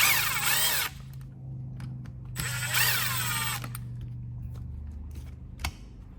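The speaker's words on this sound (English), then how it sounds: "You got your 4 screws here. You will take them out." A power driver backs out four screws on an RC car during a servo upgrade, giving two separate bursts of high, whirring motor whine with quieter handling clicks in between.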